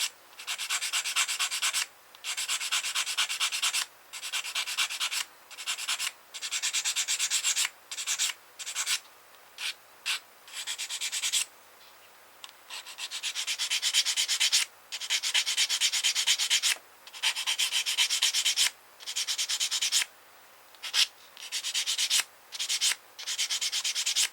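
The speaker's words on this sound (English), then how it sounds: "There's a few nubs on there, so we find a sanding stick and just" Close, rhythmic scratching of a sanding stick removing nubs from a plastic Type VIIC U-boat model part, in repeated bursts of strokes separated by short pauses.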